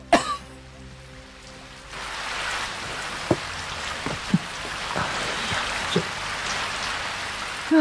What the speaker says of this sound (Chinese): 哟，下雨